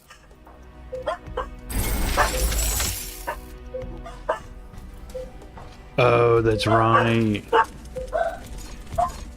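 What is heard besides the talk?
dogs barking in the video game The Riftbreaker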